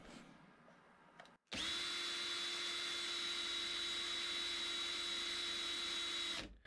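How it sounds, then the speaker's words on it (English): A cordless drill drives a BLDC motor on a lathe, spinning up with a steady, loud whine and hum that holds at a constant pitch for about five seconds before cutting off abruptly. "I've got my cordless drill connected"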